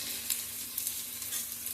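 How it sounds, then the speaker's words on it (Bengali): Drumstick flowers frying in a blackened wok give a soft, continuous sizzle and crackle throughout, fairly faint and with no talking. "তো এখানে আমি ভেজে নিচ্ছি।"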